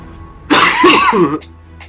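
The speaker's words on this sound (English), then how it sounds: "Apparently when I cast, I become a smoker and I have to cough all the time." A single harsh cough burst in a League of Legends match, a game character's cast sound effect, loud and close for about a second between quieter game audio.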